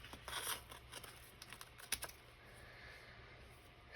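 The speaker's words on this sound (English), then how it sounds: "I got way too much paper here. Let's cut some of that off." Scissors snipping and trimming excess paper at the edge of a Halloween journal page, a few crisp cuts and paper rustles close by, with no talking.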